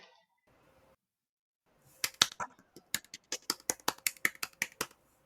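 A single person claps their hands about a dozen times in a steady, fairly quick rhythm. The claps are close and crisp, and they follow a couple of seconds of near silence with a faint murmur.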